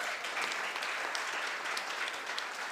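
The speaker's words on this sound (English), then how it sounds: "Can we have a big round of applause for her?" An audience at a talk on women and the world of work claps for a speaker being introduced, a steady, dense round of applause from many hands without voices over it.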